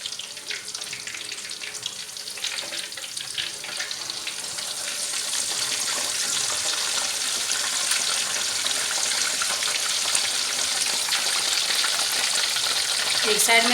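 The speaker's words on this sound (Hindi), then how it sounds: "इसे हम तकरीबन 3-4 मिनट के लिए फ्राई करेंगे बस" A whole Lahori charga chicken, already cooked through, fries in a pan with a loud, steady, close hiss of sizzling oil that swells gradually over several seconds.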